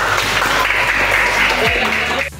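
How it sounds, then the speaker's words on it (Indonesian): Schoolchildren in a classroom clap together in a dense, steady round of applause that stays loud throughout and cuts off abruptly near the end, with a low hum running underneath. "Tepuk tangan anak-anak untuk Sheila."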